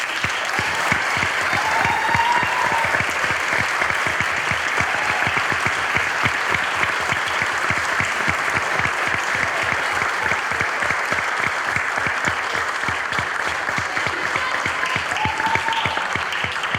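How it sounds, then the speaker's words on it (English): Audience applause fills a school board gathering honouring a group of kids and their teachers, a dense steady clapping that holds loud and unbroken throughout, with a few faint voices and whistles rising above it. "So another round of applause for our"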